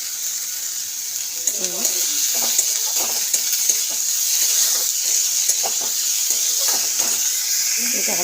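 Sliced carrot fries in a pan for a sandwich, a steady soft sizzle with intermittent scraping and stirring clatter, close and moderately loud, without speech.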